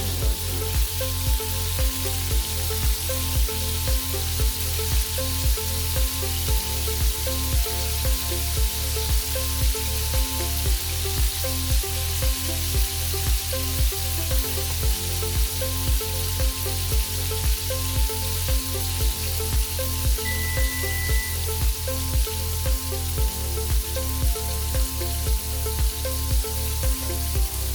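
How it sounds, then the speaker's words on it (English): A steak sears in scorching hot oil in a pan, giving a loud, continuous close sizzle with a rhythmic pulsing hum running underneath for the whole stretch. "So we put the oil in there right now. Put the steak in."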